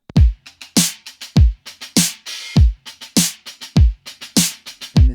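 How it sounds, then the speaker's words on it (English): A 909 drum machine kick and snare play a steady, punchy pattern: deep booming kicks alternate with sharp snare cracks and quick ticks, loud and up close with no other sounds. "So 909 kick and snare sound like this."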